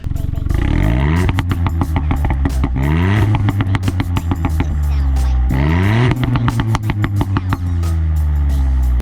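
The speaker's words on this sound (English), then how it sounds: "when it pops, it really cracks now" A Ford Fiesta ST with a Miltech exhaust revs repeatedly, each rise in pitch falling away into rapid sharp pops and crackles, loud and close.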